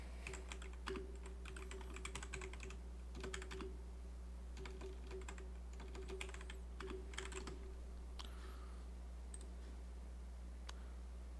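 Steady clatter of computer keyboard typing, bursts of rapid key clicks with short pauses between, fairly quiet over a constant low hum, no talking.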